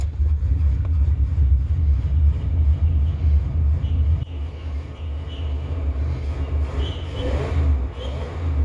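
A 1970 Chevrolet Impala with a 400 engine runs on a shot of ether, a steady low engine drone that holds loud throughout and dips slightly partway before settling into a rough idle.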